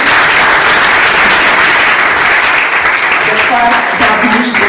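A congress audience in Portugal applauds to welcome a gastroenterologist to the panel table, a loud, dense, steady wash of many hands clapping that fills the room throughout, with a few faint voices rising near the end.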